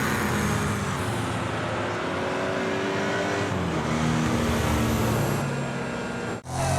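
Need for Speed race car power sliding through a turn, then accelerating hard with a loud, steady engine roar and shifting revs close up, cutting off abruptly near the end.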